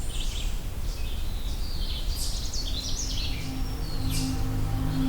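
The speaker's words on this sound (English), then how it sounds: "I think I've got a Canada warbler." A Canada warbler sings from overhead in woodland: brief, faint, high chattering phrases repeat over a loud, steady wash of low background noise.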